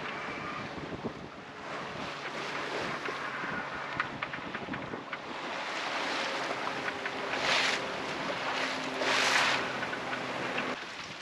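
Sailboat running under self-steering gear in quartering seas, with steady wind noise buffeting the microphone and waves rushing and washing past the hull in surges, loud and continuous with no talk.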